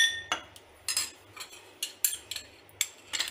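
A metal spoon clinks and taps against a mocktail glass while sugar syrup is spooned in, a series of light, bright clinks spread at an uneven rhythm, close and fairly quiet with a faint low hum underneath.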